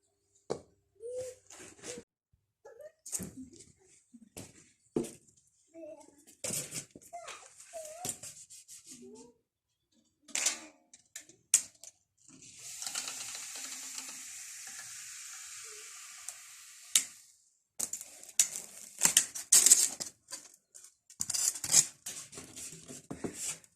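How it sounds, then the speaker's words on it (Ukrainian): Polystyrene foam board for ceiling insulation is cut by hand along guide rails, producing a steady scratchy hiss for several seconds, framed by intermittent clatter, knocks and handling noises. "і ріжу відповідно по цій стороні, по цим направляючим"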